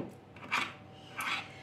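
Margarine and flour for cake batter stirred in a bowl, two rasping scrapes about half a second apart, close and quiet with no talk.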